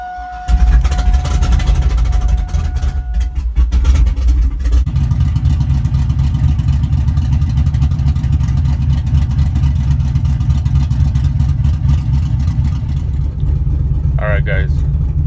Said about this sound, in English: It made my truck turn on with ease.